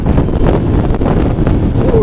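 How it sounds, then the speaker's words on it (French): A 2018 Kawasaki Vulcan S motorcycle accelerating up a hill, its engine rumbling loud and steady and heavily buffeted by wind across the whole stretch. "on va tester dans la côte l'accélération."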